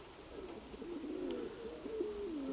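A pigeon coos nearby in a low, rolling, drawn-out call that rises and dips over a couple of seconds, alone against faint background hiss.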